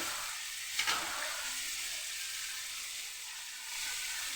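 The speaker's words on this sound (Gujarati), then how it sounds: "અહીંયા આપણા ટમેટા સરસ તતડાવા લાગ્યા છે" Tomatoes for a Ratlami sev and tomato curry sizzle softly in a pan, a faint, steady frying hiss with one brief louder crackle near the start and no talking.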